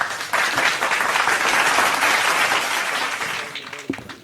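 Loud applause from a mushaira poetry gathering audience, starting abruptly and holding as a dense, lively wave of clapping before tapering off near the end.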